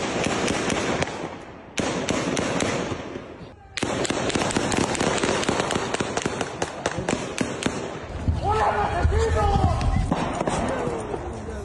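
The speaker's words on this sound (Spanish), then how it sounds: "¿Quién son los que están disparando?" Gunfire during a predawn shootout at the Cruz Azul cement plant in Tula, Hidalgo: sharp, dense volleys of shots crackle for several seconds, briefly pausing, while excited voices shout over the firing.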